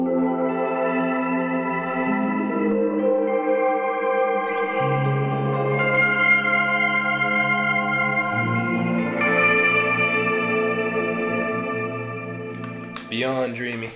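An electric guitar runs through a simple pedalboard with fifth harmonization, modulated reverb and delay, giving dreamy, wobbling layered chords that sustain and shift through several changes, with a smeared swirl near the end.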